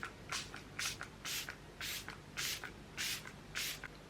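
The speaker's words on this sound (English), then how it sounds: "let's put some setting spray on and finish up the makeup." Makeup setting spray misted in a quick series of about seven short bursts, close and evenly spaced, each a brief airy hiss with faint handling sounds between.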